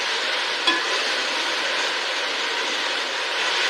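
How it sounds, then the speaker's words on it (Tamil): Spinach wilting in an open pan after a handful of water is sprinkled in, giving a steady, even hiss and sizzle throughout with one brief faint click near the start, no voices. "இதை ஒரு கையளவு ஜலத்தை மட்டும் தெளிச்சுட்டு வதக்கினாலே போதும்."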